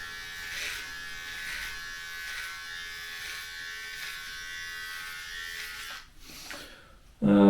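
An electric beard trimmer buzzes steadily and close as it trims a beard, humming for about six seconds before cutting out near the end, followed by a louder thump.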